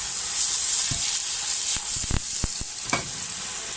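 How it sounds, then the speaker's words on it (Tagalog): Ginger frying in hot oil in a pan for patola soup with shrimp and misua, a steady loud sizzle broken by several sharp scraping stirs of the utensil. "Lagyan lang tayong mantika mga katropa. At tayo magigisa na."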